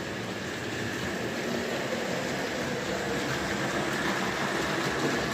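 A Rapido model brake van runs around a model railway, giving a steady, continuous rolling rumble with faint metallic hiss that stays even throughout, with no voices.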